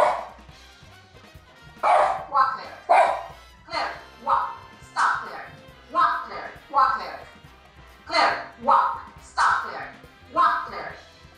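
A dog barks repeatedly at close range, about a dozen loud, sharp barks and yips in uneven bursts, some paired in quick doubles.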